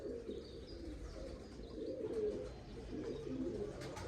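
Pigeons coo softly and repeatedly at close range, their low throaty calls overlapping over a steady background hum.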